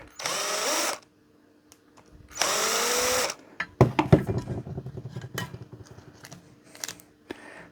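A clamp is loosened to free wire from a metal halide light ballast assembly. Two bursts of power-tool whirring come first, then a close run of metallic clanks, scrapes and rattles.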